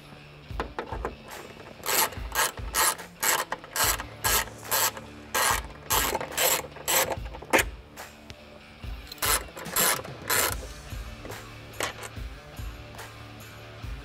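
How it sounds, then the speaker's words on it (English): T30 bolts being backed out of the lower mounts of the speaker pods on a 4-door Ford Bronco during a Trektop install: a long run of fast, loud ratcheting clicks in several bursts with short pauses, close up. "we're going to have to pull the 2 T30 bolts for the bottom of the sound pods"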